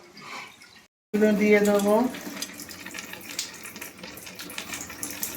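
Spring onion stalks are washed under a running kitchen tap, with a steady close splash of water that continues after a brief spoken phrase.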